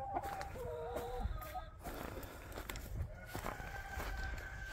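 Backyard chickens cluck and chatter in a mixed, uneven chorus, with a rooster crowing among them, the calls moderately close and set against light outdoor background noise.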